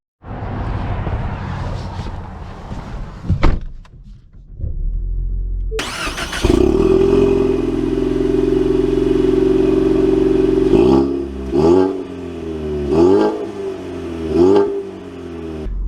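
A 2023 Ford Mustang EcoBoost turbocharged four-cylinder starts up loud and close, settles into a steady idle hum, then revs in several rising and falling bursts.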